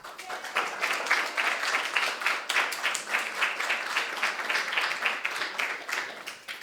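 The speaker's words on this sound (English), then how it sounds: "Let's give a warm round of applause" An audience at a New York high school poetry awards ceremony claps for a winner, with distinct, fairly sparse individual claps heard at moderate distance.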